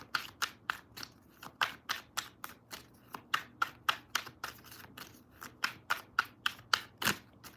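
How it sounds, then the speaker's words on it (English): Tarot cards being shuffled by hand, close by, as a quick run of about two dozen crisp, evenly spaced slaps and flicks with no talking. "One more shuffling."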